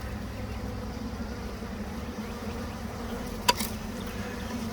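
A small honeybee swarm being coaxed toward an 8-frame half-deep mating cube hums in a steady, continuous low drone throughout, with a single brief click near the end.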